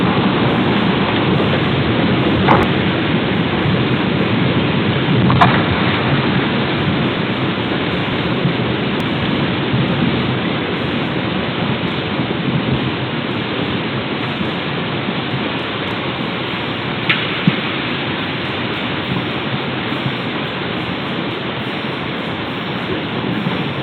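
A violent thunderstorm dumps heavy rain in a dense, steady roar, with a few brief sharp cracks standing out against the constant downpour; no voices.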